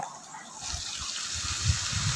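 Two tumblers of water gush and splash steadily into a cooking pot of brinjal curry with chilli powder, a close, moderate pour that picks up slightly toward the end.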